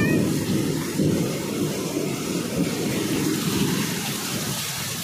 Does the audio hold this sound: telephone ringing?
no